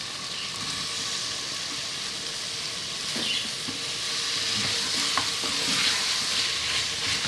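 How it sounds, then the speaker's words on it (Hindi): Chopped tomatoes sizzle steadily in a pot with occasional stirring scrapes, a continuous moderate frying hiss with no voices. "टमाटर डाल के भूनेंगे"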